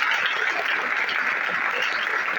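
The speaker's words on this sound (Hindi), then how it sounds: "एक बार जोरदार तालियां बजाएं।" A classroom audience answers a teacher's call with a burst of loud, dense applause, steady clapping that fills the whole moment without a break.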